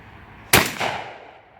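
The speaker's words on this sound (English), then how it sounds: "he's about to shoot this box" A single loud, close shotgun blast fired at a box cracks sharply, then its echo decays over about a second.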